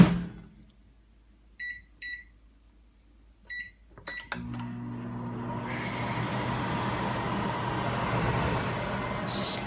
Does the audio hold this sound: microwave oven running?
yes